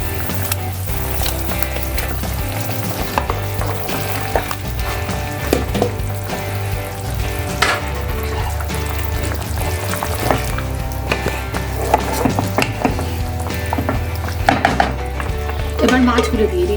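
Fried potatoes go into a simmering shol fish curry in a pan: a continuous close sizzle and bubbling with repeated clattering knocks of a utensil against the pan, busy and fairly loud throughout, with no talking.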